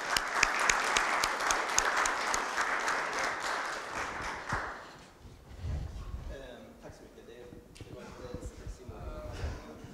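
An audience at a public talk applauds loudly for about four seconds, dense clapping that then fades out into a voice talking and light room noise.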